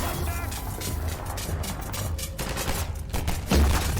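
Rapid, dense gunfire fills a Half-Life 2 firefight in close bursts, mixed with crossbow shots, and the volume stays loud throughout while a voice talks over the action.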